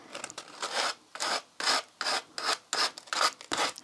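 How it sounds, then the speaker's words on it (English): Rhythmic rasping strokes of sandpaper rubbing back and forth by hand on a hard candle holder, close up, with short pauses between each stroke. "I thought I will go and just sand a little bit"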